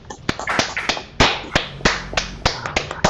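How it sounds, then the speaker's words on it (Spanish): Sparse applause from an online panel on Peruvian foreign policy and relations with Chile, a handful of separate sharp claps in an irregular rhythm, close and dry, with no talking. "despedirlo con un muy fuerte, fraterno y sentido aplauso."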